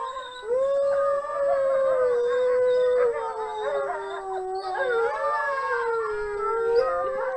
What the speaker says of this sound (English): This is a wolf chorus.